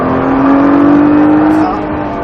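A 550 hp Nissan GT-R accelerates on a race circuit, its engine note climbing in a loud, close, steady drone from inside the car before easing off.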